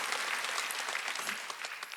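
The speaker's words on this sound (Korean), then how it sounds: "박수치라" A congregation at a Korean Sunday church service breaking into dense, continuous applause, a steady wash of many hands clapping at once, moderately loud throughout.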